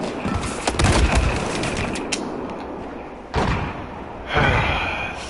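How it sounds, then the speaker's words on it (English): Battlefield 4 gameplay with smoke grenades going off: a dense burst of thuds and bangs, then hissing bursts that swell suddenly around the middle and near the end, loud and close. "Throwing smoke bombs."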